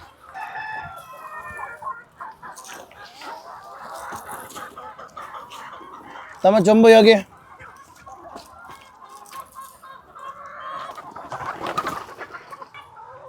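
Native chickens on a farm cluck and call in the background with one loud, brief squawk in the middle, while a person speaks briefly.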